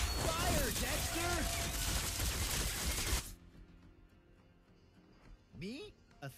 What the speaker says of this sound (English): Fire, Dexter